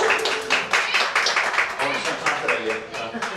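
A small group claps in a round of applause at an Elvis-themed wedding in the Graceland Chapel in Las Vegas. The quick, uneven hand claps sound close and run all the way through, mixed with voices talking.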